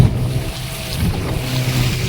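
A purse seine fishing boat rides a rough, churning sea, with low rumbling water, wave wash and wind buffeting the microphone in a steady noisy bed, and no talking.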